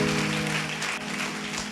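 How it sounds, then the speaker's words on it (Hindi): Brief, dense clapping from a church congregation at a Sunday meeting fills the whole moment at steady loudness, with a sustained musical tone running beneath it. "ताली बजाएं यीशु के लिए जोरदार।"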